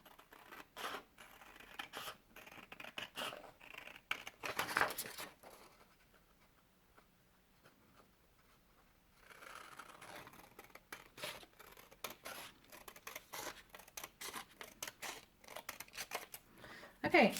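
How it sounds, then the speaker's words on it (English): Scissors snip along the outside line of a paper tarot box template, a run of close, fairly quiet cuts with a pause partway through. "you then simply cut it out along the outside line"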